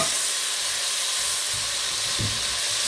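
Canned tomatoes hit a hot soup pot with bay leaves, giving a loud continuous hiss and sizzle close by, with low stirring scrapes near the end.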